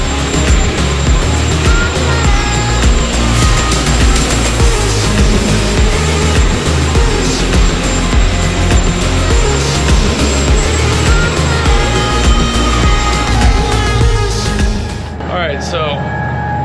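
A yacht's engine room roars with running generator and engine machinery, a loud, steady mechanical drone and whine filling the space up close, with a voice partly buried under it before the noise drops off near the end.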